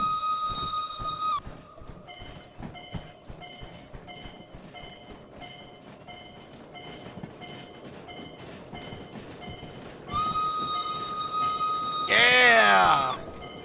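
A steam locomotive's shrill whistle blows twice, short then long, over continuous rhythmic rail clatter and chuffing while a shunting train moves, ending in a loud burst of steam.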